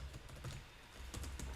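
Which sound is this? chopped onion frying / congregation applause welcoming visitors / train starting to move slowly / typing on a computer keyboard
typing on a computer keyboard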